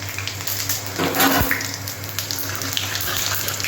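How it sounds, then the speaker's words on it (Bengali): Cumin, bay leaf and dried chillies sizzle in hot oil for a potato-egg curry, a steady close crackling fry with a brief louder surge, no voices over it. "এখানে জিরে, তেজপাতা, শুকনো লঙ্কা আছে"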